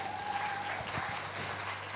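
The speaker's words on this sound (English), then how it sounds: "Thank you for the applause." An audience at a Web3 and crypto talk event claps for a speaker being welcomed to the stage, giving steady, mid-level applause that carries on throughout.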